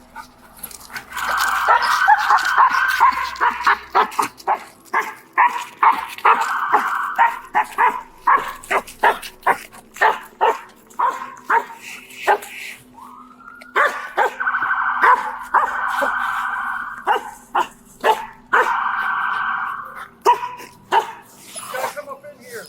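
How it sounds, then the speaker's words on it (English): Police dogs bark repeatedly during a search through yards and wooded areas, loud sharp bursts in quick irregular runs with some whimpering yips, while people talk over and between the barks. "releasing the canines and beginning the search through nearby yards and wooded areas"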